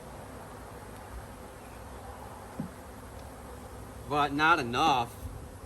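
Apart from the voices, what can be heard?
honey bees buzzing on hive frames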